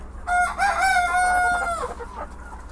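A chicken on a poultry farm gives a loud, close run of clucking and crowing-like calls lasting under two seconds, while breeder birds are being fitted with leg bands.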